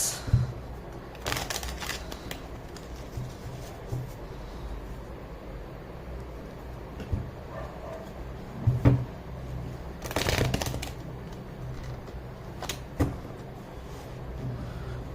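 Tarot cards being shuffled and pulled by hand, with soft riffling bursts and flicks of card stock, close and fairly quiet, in a few separate clusters with pauses between.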